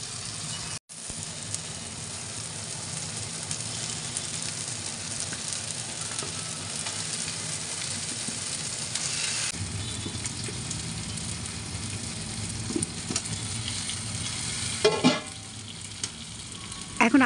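Chicken pieces and potatoes sizzling steadily in a hot pan for chicken kabsa, a continuous close frying hiss with occasional stirring clatter near the end.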